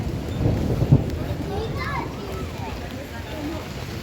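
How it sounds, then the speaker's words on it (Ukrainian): Thunder rumbles low during rain in the town centre of Bad Kissingen, Germany, with a brief heavier burst near the start. Faint background voices and the patter of rain run underneath. "Навіть гримить грім."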